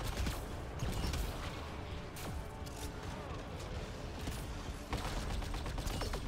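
Sniper-like weapon fire in Mass Effect Andromeda multiplayer, a Turian soldier shooting amid dense, continuous game-combat noise, with a few sharper shot transients near the start, middle and end.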